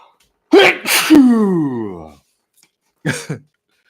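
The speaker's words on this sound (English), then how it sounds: "Yep, I'm going to sneeze now." A loud, close sneeze with a sharp intake and burst, trailing into a drawn-out voiced sound, followed by a short second exhale moments later.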